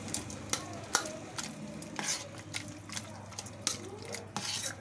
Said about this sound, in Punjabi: 2 ਮਿੰਟ ਹੋਰ ਹਲਾਵਾਂਗੇ ਤੇ ਐਨ ਮੱਖਣ ਬਣ ਜਾਏਗਾ